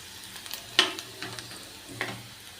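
A tadka of garlic, onion, chilli and spices sizzles faintly in hot oil for moong dal. A few sharp spits and clinks stand out over a quiet, crackling hiss.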